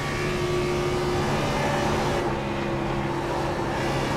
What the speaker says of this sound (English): you can hear him working that throttle all the way through the corner